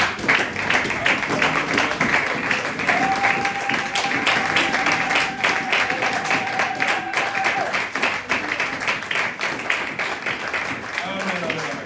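A church congregation at a sermon claps and applauds in a sustained, loud stretch, with voices calling out over the clapping throughout.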